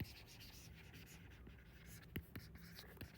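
A pen moving across paper as someone writes out an engineering calculation for a reinforced concrete circular column, with scratchy strokes and a few sharper taps, close, quiet and steady.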